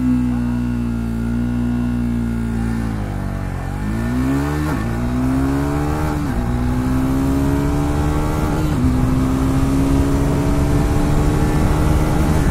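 Triumph Speed 400 and KTM Duke 390 motorcycles race flat out in a top-end drag race, engines screaming loud and climbing in pitch through repeated gear shifts, each upshift briefly dropping the note before it rises again.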